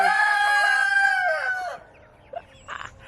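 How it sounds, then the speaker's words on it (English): A lavender Ameraucana hen's drawn-out, wavering crowing call rings out nearby, followed by a few soft, brief clucks. "They are just the sweetest, very gentle, beautiful chickens, and they lay a blue egg."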